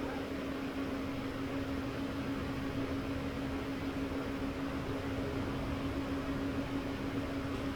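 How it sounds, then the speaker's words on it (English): Steady whirring hum of a train's cooling fan in Train Sim World 4 on the Fife Circle Line, a constant droning tone under broadband air noise with no change throughout. "I shouldn't be hearing the train fan."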